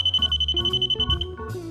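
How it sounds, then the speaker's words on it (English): A steady high electronic beep from a voltage detector testing a string of light bulbs sounds continuously over low humming tones, briefly dropping out near the end. "The beeping indicates the presence of voltage."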